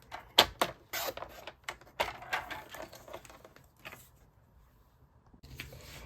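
Paper cut to size on a trimmer, a few sharp clacks and a brief slicing rasp up close, then quieter settling sounds and a short pause. No one speaks.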